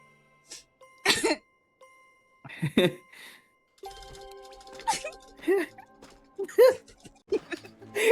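Several short, sharp human coughing bursts, close and loud, with brief pauses between, mixed with voices talking and a faint jingly background during a game race.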